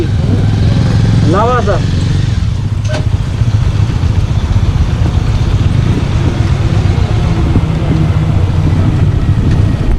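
A Bajaj Avenger motorcycle engine runs loud and close throughout as the bike is parked, with a steady low rumble and people talking over it.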